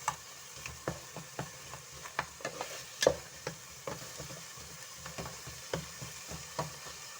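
Tomatoes for chicken kabsa are stirred in a pan with a utensil, making a steady run of close, rhythmic scraping taps over a faint background sizzle.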